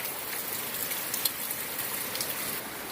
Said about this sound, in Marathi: पाऊस आता वाढलाय